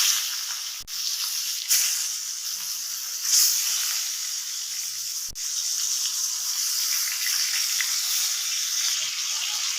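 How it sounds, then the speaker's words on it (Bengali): Marinated rohu fish pieces fry in heated oil in a home kitchen pan, giving a steady close sizzling hiss that runs throughout, with a couple of brief sharp clicks and no voices. "আমি এখানে প্যানে তেল দিয়ে দিয়েছি, তেলটা গরম হয়ে গেছে। এখন আমি একে একে মাছগুলো ছেড়ে দিব।"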